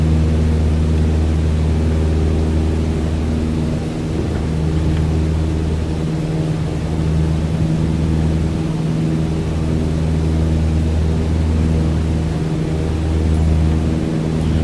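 A steady propeller aircraft engine drones throughout in Microsoft Flight Simulator, a constant loud hum with low tonal bands that holds its level the whole time, with no voices over it.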